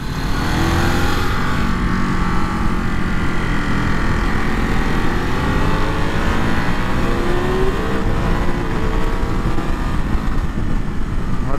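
2023 Ducati Monster SP engine revving throatily around 6-7 thousand rpm while riding, a loud, sustained close roar with pitch sweeping up and down through gear changes, wind noise underneath.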